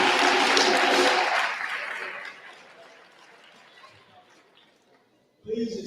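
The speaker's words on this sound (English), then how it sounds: "Give yourselves a round of applause." Audience at a Kwanzaa 2022 celebration night applauds loudly at first, the clapping thinning and fading over several seconds before a voice cuts back in at the end.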